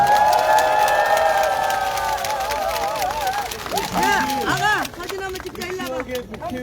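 At an outdoor campaign rally, a crowd claps and cheers loudly at first, then the applause thins into scattered shouts and clapping with voices talking over it.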